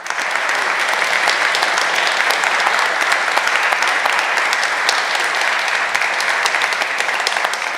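Sustained audience applause fills a lecture hall after a diplomatic talk, loud, dense and steady for nearly eight seconds with no voices on top.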